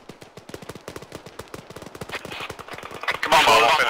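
Rapid automatic gunfire in a military video game set in Chernarus: a steady, close stream of sharp shots that gets heavier and louder toward the end, with voices talking underneath.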